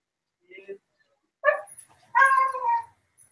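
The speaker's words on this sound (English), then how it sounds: "Is that your dog?" A pet dog whimpers and gives short yips a few times at close range, asking to be let outside, with quiet gaps between the sounds.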